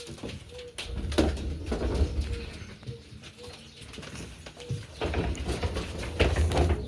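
Racing pigeons cooing inside a loft, soft repeated low coos scattered through the scene at close range, with faint rustling and occasional movement in the background.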